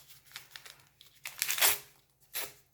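Close crinkling and tearing of the paper packet of vanilla sugar while making a lemon pound cake, a few short rustling bursts with the loudest crackle near the middle.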